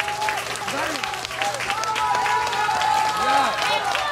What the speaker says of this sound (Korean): 열심히 하라고 다시 한번 박수 한번 주십시오